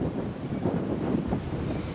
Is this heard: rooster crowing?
no